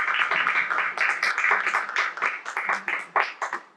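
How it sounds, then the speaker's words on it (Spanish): Audience applause at a panel discussion on fifty years since the coup: a steady run of close, separate claps that grows sparser and more uneven as it fades. "Un aplauso."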